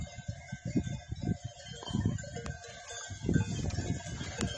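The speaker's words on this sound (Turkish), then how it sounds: "Bu dağın öbür tarafına gidiyor hala hain koyunlar." A flock of sheep driven on a warm mountain slope near woods, with scattered bleats, a bell clanking and rustling movement, all fairly faint and distant, with no talk.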